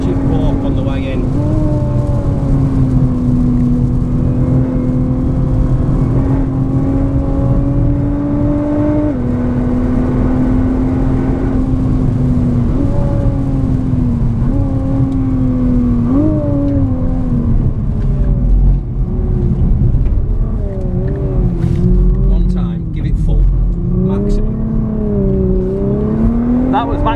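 A 2017 Nissan GT-R engine pulls hard at full throttle around the wet Spa-Francorchamps circuit in torrential rain, heard from inside the car as a loud, rising drone that steps through gear changes, with occasional voices over it.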